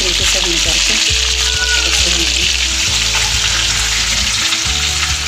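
Chicken leg pieces deep-frying in hot oil, a loud, dense, continuous sizzle and bubbling up close, with occasional low knocks and clatter from the pan.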